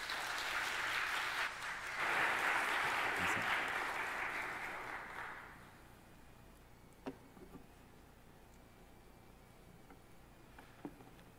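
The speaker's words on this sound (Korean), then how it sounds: "우리 성교사님 나오실 때 우리 크게 환영하는 박수로 우리 모셨으면 좋겠습니다." A church congregation at Sunday worship claps to welcome a missionary preacher, loud sustained applause that swells, holds for several seconds, then fades out, followed by a quiet hall with a few faint clicks.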